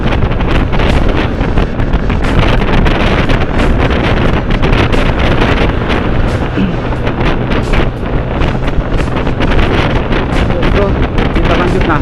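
Strong, steady wind roar buffets the microphone on a motorcycle, a Honda Vario 125, riding near the Suramadu bridge toward Bangkalan on Madura, loud and continuous with no break.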